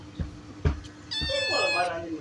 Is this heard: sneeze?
no